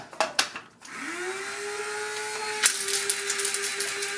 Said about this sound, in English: I put in 2 caffeine pills. I grind that down.